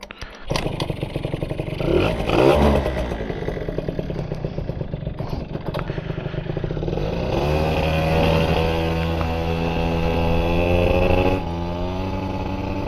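A motorcycle that had been idling rough is ridden away: clattering and revving at first, then a loud, close engine drone that rises and holds steady. No one speaks.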